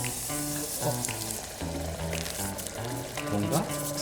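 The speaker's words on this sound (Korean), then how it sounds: "뭔가 부글부글 끓는 소리가 나죠?" A rose dipped into liquid nitrogen fizzes and bubbles with a continuous soft crackling boil, fairly quiet, with faint tonal background music underneath.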